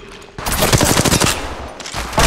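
Rapid automatic gunfire from Apex Legends Mobile, a dense burst of close, loud shots lasting over a second, followed by a brief pause and more shots starting again.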